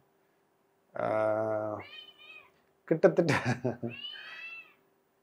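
Indoors in a house, a cat gives two short, clear meows. Each one follows a stretch of someone speaking, and the cat sounds close and fairly quiet.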